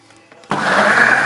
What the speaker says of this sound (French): Il faut que je tienne le mixeur totalement appuyé